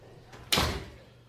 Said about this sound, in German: Machen Sie die Tür zu.